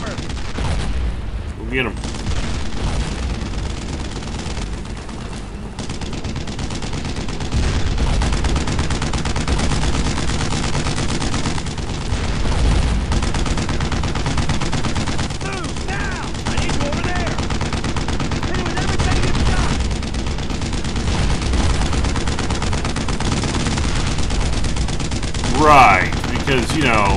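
Sustained WWII gunfire and explosions in the video game Brothers In Arms: Road To Hill 30, a dense continuous battle din with a sharp loud burst near the end, while voices shout over it.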